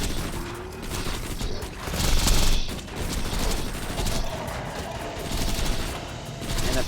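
Rapid video game gunfire from Axton's Ranger build rattles in a dense, continuous burst with mechanical clatter and explosions, loud and sustained throughout.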